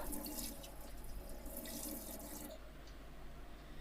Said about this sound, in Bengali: দেখতে পাচ্ছ আমার আলু ধোয়া হয়ে গেছে